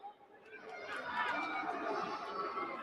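A stadium crowd at an under-17 football semi-final between Egypt and Tanzania, a dense murmur of many voices swelling steadily louder, heard from a distance.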